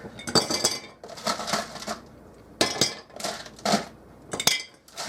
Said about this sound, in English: the first thing I'm going to do is I'm going to put my ice in here